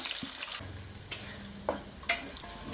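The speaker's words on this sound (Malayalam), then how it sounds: "മീൻ ഫ്രൈ ചെയ്തെടുത്ത അതേ എണ്ണയിലേക്ക് നൂറ്റൻപത് ഗ്രാം വെളുത്തുള്ളി തൊലി കളഞ്ഞ് നടുവെ മുറിച്ചത് ചേർത്ത് കൊടുക്കാം" Halved peeled garlic, 150 grams, goes into oil left over from frying prawns, giving a soft, low sizzle with a few sharp clinks and spatula taps close by; quiet overall, with no speech.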